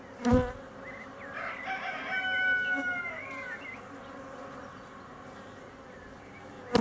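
Honeybees buzz around an open beehive, a steady, close drone that swells for a few seconds and then settles, with a couple of sharp knocks from the frames.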